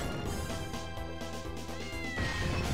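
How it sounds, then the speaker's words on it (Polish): A cat meows in the Castlevania: Order of Ecclesia video game, a couple of drawn-out, tonal cries over faint game music, fairly quiet, with no speech. "Słyszę to miauczenie."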